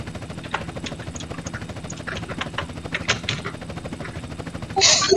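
Helicopter rotor thudding steadily in a military video game, a dense continuous chop with scattered mechanical clicks and a louder burst near the end.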